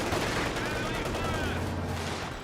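Half-track machine-gun fire raking Panzer Fusiliers in Company of Heroes 2, a dense, continuous rattle of gunfire with low engine rumble beneath, steady and loud across the whole stretch before easing slightly at the end.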